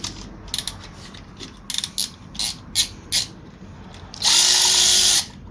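Ratchet with a deep well socket on a bolt during valve cover gasket and spark plug work on a 2013-2024 Subaru Outback 2.5 FB25: several short bursts of clicking, then a longer steady ratcheting run, close and loud.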